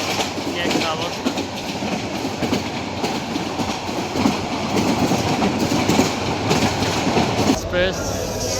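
The non-stop Subarna Express, hauled by a 3000-series locomotive between Chittagong and Dhaka in Bangladesh, runs steadily with a continuous loud rumble and rhythmic clickety-clack of wheels, heard from inside the carriage with some voices mixed in.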